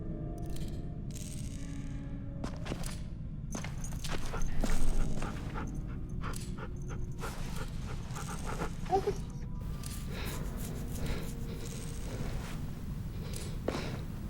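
A dog pants steadily and closely in The Walking Dead: The Final Season video game, with quick rhythmic breaths, soft whimpers and small clicking and rustling sounds around it, briefly swelling louder midway, with no talking.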